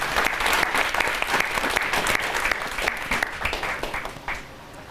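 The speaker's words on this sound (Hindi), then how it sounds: "एक बार फिर तालियां बजा के मुझे आगे" Dense applause from an audience at a Hindi poetry recital, loud and sustained with many overlapping claps, tapering slightly toward the end.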